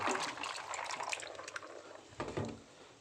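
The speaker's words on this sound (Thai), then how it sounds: "เราก็จะมาเท น้ำที่สามออกนะครับ" Soaking water is poured off a batch of date palm seeds, a steady close splashing trickle that runs for a few seconds, thins out, then surges briefly again near the end.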